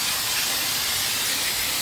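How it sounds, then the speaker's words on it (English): Fluid Film rust inhibitor is sprayed from an aerosol can onto the front brake hub of a 2003 Chrysler Sebring Coupe, giving a steady, close, loud hiss with no pauses or talk. "to keep the hub surface rust free, I'm going to spray some fluid film on that"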